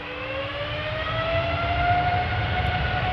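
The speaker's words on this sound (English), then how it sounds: "we're hearing the Dreamliner making its way" A KLM Boeing 787-10 Dreamliner, three years old, spools up its jet engines at Amsterdam Schiphol Airport, a steady loud whine with rising tonal lines over a broad roar.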